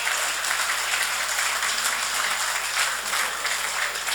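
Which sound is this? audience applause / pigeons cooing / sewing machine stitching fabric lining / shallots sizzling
audience applause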